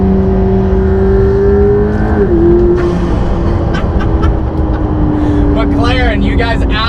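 A McLaren P1 hypercar's engine roars loudly from inside the cabin as it accelerates, its tone shifting through a gear change, while an excited voice exclaims over it.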